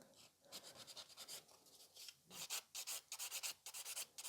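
A nail file scrapes over a sculpted fiber gel nail extension in quick, rhythmic strokes, with short rasping bursts that grow more rapid and regular toward the end.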